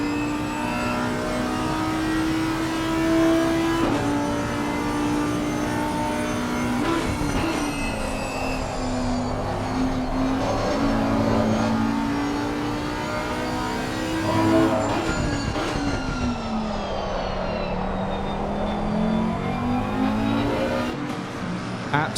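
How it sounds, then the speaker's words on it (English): Audi race car in a sim racing game at Valencia, its engine revving hard through repeated upshifts, a loud onboard whine climbing in pitch, dropping at each gear change, then rising again steadily. "Absolutely glorious sound, honestly, out of that Audi. It is a proper soundtrack."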